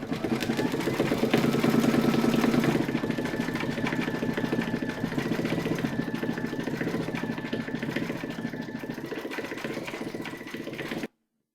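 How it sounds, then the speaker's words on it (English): An embroidery machine stitches black eyes and a nose onto a faux fur dog coaster in a hoop, a steady rapid mechanical chatter running close and evenly for about eleven seconds before stopping abruptly. "Load your matching bobbin and thread colour for the black of the eyes and the nose into your machine and then stitch round number 5"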